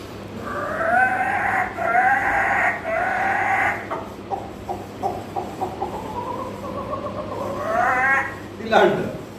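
A voice imitates a village hen's cackling call after laying an egg: a run of repeated, pulsing clucks building to a louder rising squawk at the end, close and clear.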